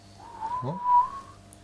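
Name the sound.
person whistling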